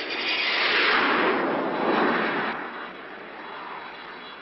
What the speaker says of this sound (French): La catapulte de la Romanche a 35 mètres de long et la vitesse du Fuga en sortie de catapulte